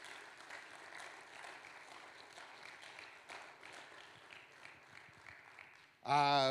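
A church congregation applauds during a Spanish-language sermon, a sustained, distant, fairly faint patter of clapping, before a loud voice abruptly cuts in at the end.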